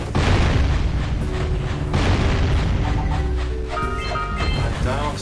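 Loud booming bomb blasts from the PS2 video game Jak and Daxter, heavy low rumbles repeating over a dense game soundscape, with a voice talking over the explosions.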